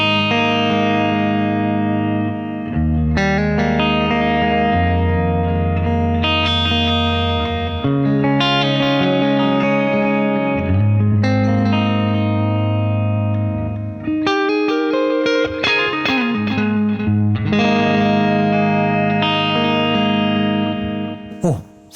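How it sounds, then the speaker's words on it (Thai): Electric guitar played through a Valeton GP-5 multi-effect on its Dark Twin preset, a Fender Twin Reverb-style clean tone, with chords and single notes ringing out warm and full with reverb, loud and steady with brief pauses. "ผมใช้ Dark Twin นะครับ Twin Reverb นั่นเองที่เราคุ้นเคยกันก็จะเป็นเสียงคลีนๆเพราะๆตุยๆหน่อยสไตล์ Fender Twin นะครับ"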